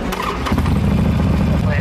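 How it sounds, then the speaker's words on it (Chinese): A motorcycle fitted with an aftermarket exhaust starts up nearby during a roadside traffic police check in Beijing, a brief cranking burst followed by a loud, steady, rumbling idle. "来，你把你车打着了，我看一眼。"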